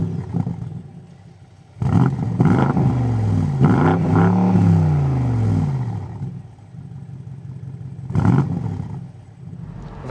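A 2022 BMW 8 Series with a 4.4-litre engine starts with a loud blip and a roaring rev that rises and falls over several seconds, then drops to a steady idle, with another short blip near the end.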